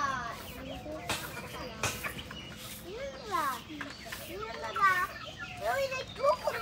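Native chickens cluck and chirp on a village poultry farm, several birds close by in scattered bursts, with children's voices and talk in the background.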